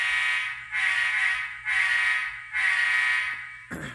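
An ESU LokSound decoder sounds the horn of a model Union Pacific Heritage 8444 locomotive: four sustained chord blasts with short breaks between them, loud and close, ending with a brief clunk.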